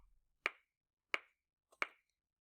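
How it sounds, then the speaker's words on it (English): Three sharp, crisp metronome clicks at 88 beats per minute, each ringing briefly before silence, close and clear. "I have my metronome set for 88 beats per minute."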